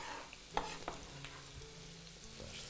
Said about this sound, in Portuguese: Juntamos aqui o alho e a cebola.